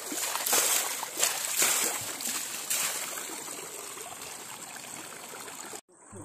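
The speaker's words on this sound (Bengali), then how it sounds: "গরুগুলো আজ প্রাণ খুলে স্নান করছে" Cows bathe in open canal water, producing soft sloshing and trickling splashes with a few sharper splashes early on, moderately close and fairly quiet, ending abruptly.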